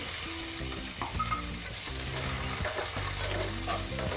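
Two large sliced onions and two chilies frying over a high gas flame, a steady dense sizzle with stirring underneath and a strong low hum throughout, close and continuous with no voices.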